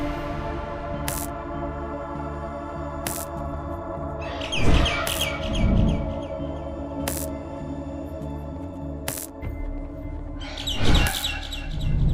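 Bird diving in the video game Garten of BanBan 6, chirping synthetic calls over a droning musical bed, with two louder whooshing swells and several sharp repeated tones, no talking.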